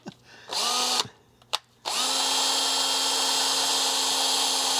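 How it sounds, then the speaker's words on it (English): A power drill with a brand new bit starts, stops briefly, then whines steadily at high speed, close and loud, running continuously for several seconds. "So, you hopefully know how to drill a hole."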